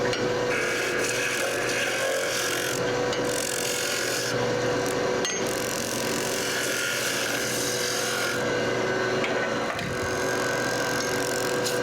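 A woodturning tool roughs down wood stock spinning on a lathe, making a steady, loud, close rasping scrape with a brief knock partway through and no talking.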